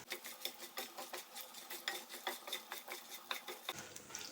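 Ivy gourd sabzi ingredients roasting in a pan, with a steady run of quick scraping and stirring strokes against the metal, crisp and fairly close, without any talk over it.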